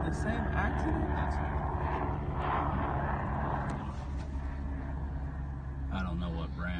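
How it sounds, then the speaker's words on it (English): A helicopter flies overhead heading toward a car accident, its steady, heavy engine and rotor rumble continuous and fairly close throughout. "Is this another helicopter going to the same accident?"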